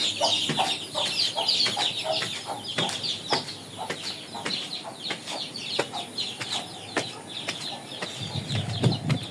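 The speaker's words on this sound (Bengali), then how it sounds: "একেবারে দেশি মুরগির বাচ্চা।" Desi chickens and chicks cluck and peep in repeated short bursts, close and fairly loud, with a low rumble near the end.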